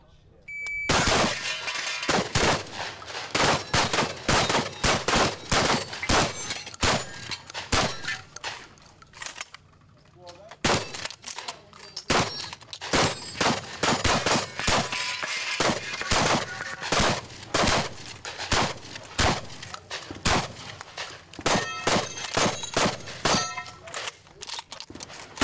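Rapid gunfire on a competitive shooting match stage, loud and close: steady strings of sharp shots mixed with ringing steel-target clangs, a brief lull around ten seconds, then more fast shooting to the end.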